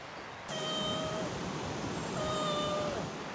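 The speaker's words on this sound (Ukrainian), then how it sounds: "О, кіт." A cat gives two long, drawn-out meows, a few seconds apart, over steady rushing background noise.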